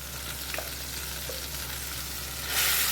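Chopped onion hitting a hot pan in a Kathiyavadi-style vegetable dish, giving a steady frying sizzle that swells louder near the end, with a couple of light utensil taps and no talking.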